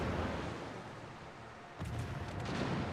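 Heavy naval gunfire in the warship game World of Warships, a low rumbling boom swelling about two seconds in over a steady background roar, with no voices.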